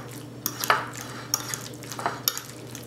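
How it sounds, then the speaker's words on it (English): A utensil stirring a tomato and onion mixture in a pan, with irregular scraping clinks every half second or so, close and fairly quiet over a faint low hum, with no voices. "Stir it all up."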